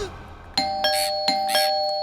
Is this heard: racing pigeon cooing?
no